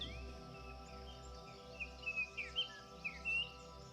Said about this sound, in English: Birds fly here and there from tree to tree.